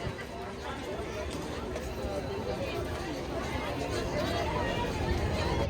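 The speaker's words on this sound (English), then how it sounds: "This is an insane crowd level tonight." Dense crowd chatter at an evening Disney100 celebration at EPCOT, a continuous babble of many voices with footsteps mixed in, steady and fairly loud throughout.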